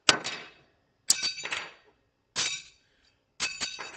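A hammer strikes silver metal in four separate bright, ringing blows, each metallic clink decaying quickly, with short pauses between, close and loud.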